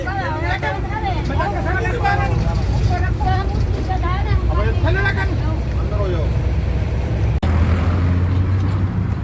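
A Haryana Roadways bus drives along loaded with passengers, its engine droning steadily beneath a lively hubbub of chatter and voices, with a brief sharp knock near the end.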